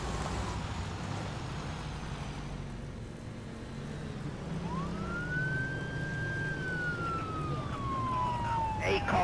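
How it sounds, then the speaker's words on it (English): Police siren in the game ArmA 3, a single rising wail that sweeps up and then slowly falls, heard over steady engine rumble and game background noise. "He's got a siren."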